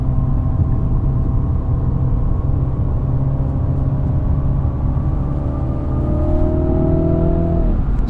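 A 2020 MINI JCW Hardtop's engine pulls hard in sport automatic mode with a loud, throaty drone, pitch climbing steadily as it accelerates before a sudden drop at the shift near the end.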